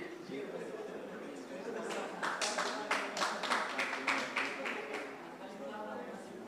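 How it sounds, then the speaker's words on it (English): Group clapping at a team game night, a burst of rhythmic claps from several people a short distance away, with voices talking over it. "Oh, that's a clap for victory."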